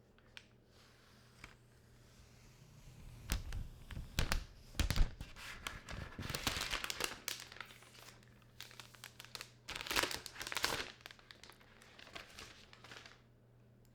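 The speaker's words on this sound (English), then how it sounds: "let's go ahead and do the peeling here." Protective plastic film peeled off a 2018 iPad Pro, giving close crinkling and crackling bursts that cluster midway and again near the end, with quiet pauses between.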